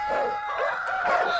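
A chicken crows loudly and close by, one long drawn-out call with a wavering pitch, and no other sounds around it.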